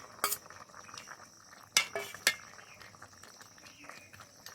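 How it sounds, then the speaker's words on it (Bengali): Fried fish heads dropped into a pot of nearly cooked Bengali chhyachra, heard as a few sharp metallic clinks of a utensil against the pot over a low kitchen background, with no talking. "এবার দিয়ে দেবো ভেজে রাখা মাছের মাথা।"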